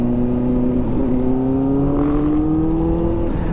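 A Kawasaki motorcycle fitted with an SC Project exhaust revs up in one smooth rising pull, a loud close tonal engine note climbing steadily over a few seconds with no voices.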